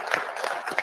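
Applause from an audience at a driver meeting honoring veterans, a short burst of scattered clapping heard close and moderately loud.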